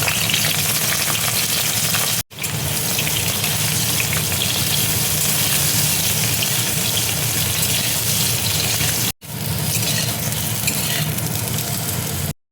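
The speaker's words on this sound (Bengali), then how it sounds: "এবার দেখো বেগুনটা আমি তেলের মধ্যে দিয়ে দিচ্ছি, বেগুনটা ভেজে নেব।" Eggplant sizzles loudly and steadily in hot oil, a continuous crackling fry broken by two brief cuts of silence.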